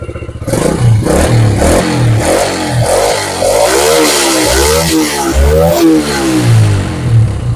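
A motorcycle engine revs repeatedly with a deep, throaty rumble through a stacked muffler, loud and close, rising and falling in pitch without any talking.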